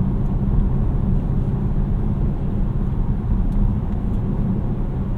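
A 2019 Volvo S90 T5 Momentum's turbocharged engine pulls the car up a hill, heard from the cabin as a steady, even low rumble that holds for the whole stretch with no voices.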